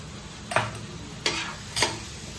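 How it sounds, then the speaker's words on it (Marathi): A spoon stirs black masala paste and wet coconut paste roasting in a pan for crab curry, with three distinct scraping strokes over a steady low sizzle, close by. "हे पण चांगलं भाजून घ्यायचं"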